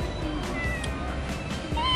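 A cat meowing at the Gembira Loka Zoo in Yogyakarta, several short, fairly faint mews spread across the moment, with the last one louder and rising, over quiet background noise.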